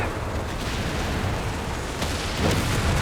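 A grenade blast and battle noise in Company of Heroes 3 beside a group of Panzer IV tanks: a continuous, loud, broadband rumble of explosions and gunfire with a slightly heavier burst near the end.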